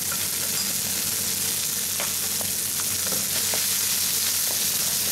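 Loud, steady sizzling of sea bream browning in a hot pan with black taggiasca olives and capers. A few faint pops and taps cut through the continuous frying hiss, with no voice.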